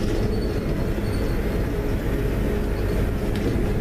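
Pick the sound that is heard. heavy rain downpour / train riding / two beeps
train riding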